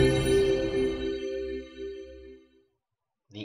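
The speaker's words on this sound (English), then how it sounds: "The alarm area sound." Alarm area sound from a mixed-ability asymmetric multiplayer game: a sustained harmonic electronic tone with a low pulsing undertone, fading out after about two and a half seconds, followed by a brief separate blip at the end.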